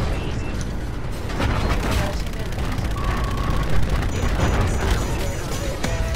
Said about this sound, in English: shoot a missile at me. I'll shoot one back.